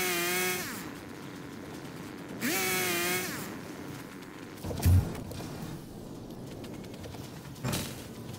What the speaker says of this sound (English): Do I have my chainsaw? I do, but I need some biofuel, because I'm probably going to have to do a little bit of clearing.